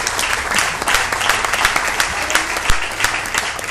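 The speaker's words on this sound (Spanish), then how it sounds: "Denle otro aplauso al Rey de Reyes y Señor de Señores" A church congregation applauds during a sermon, dense steady clapping filling the space for the whole stretch, with a faint voice underneath.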